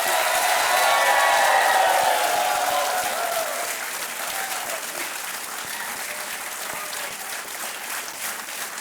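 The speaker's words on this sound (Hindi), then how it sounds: "तालियां बजती रहे देवियों और सज्जनों।" Studio audience at an Indian television quiz show bursts into sustained applause, a dense wash of clapping that starts loud and slowly thins, with no speech on top.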